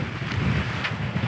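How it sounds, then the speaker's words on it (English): Steady wind rush and water noise aboard a Leopard 45 cruising catamaran under sail in fairly flat, calm seas, a continuous low buffeting roar with brief hissy gusts and no voices. "And the wind is here. And we are sailing very nicely, very fast, very well,"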